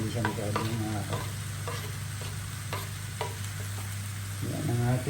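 Kapampangan-style sisig fries loudly with onions in a pan, a steady close sizzle broken by repeated scraping strokes as it is stirred.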